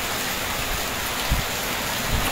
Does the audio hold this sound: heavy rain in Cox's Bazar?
yes